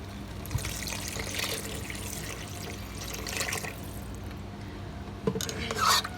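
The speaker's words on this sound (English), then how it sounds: "I'm going to add water at this point" Water pours steadily into a soup pot holding veggie stock for tomato and butternut squash soup, a continuous close splashing trickle with a few louder sloshes near the end.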